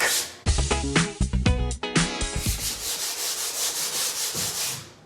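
Rhythmic back-and-forth scraping of sandpaper rubbed by hand during a bathroom remodel, loud and close, with uneven strokes at first, then steady regular passes.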